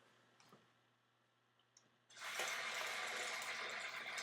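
Running water from a tap starts abruptly partway through and gushes steadily while a latex gel piece for a zombie wound goes back into the water. A few small clicks come before the flow.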